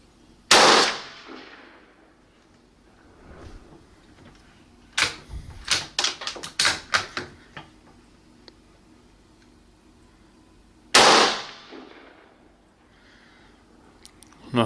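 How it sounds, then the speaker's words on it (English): Low-caliber rifle shots fired at targets at different distances, two sharp loud cracks about ten seconds apart, with a burst of quick clicks and handling noises between them. "we'll go ahead and shoot both these targets at these different distances."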